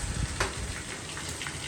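A tadka tempering for dosa batter sizzles and crackles steadily in a hot pan, a close, continuous hiss with small pops scattered throughout.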